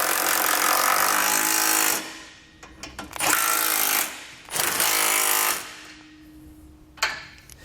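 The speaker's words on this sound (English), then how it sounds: "I'm going to come back with that same 14mm socket and snug them up" Base plate bolts on a 2017 Toyota being snugged up with a 14mm socket on a power tool, three loud rattling bursts of hammering impacts separated by short pauses, close and harsh.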